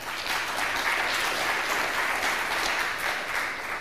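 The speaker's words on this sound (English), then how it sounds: "Give him a big applause." Dense, steady applause from a conference audience after a speaker introduces an intern at a software developer talk, sustained and fairly loud from start to finish with no voices on top.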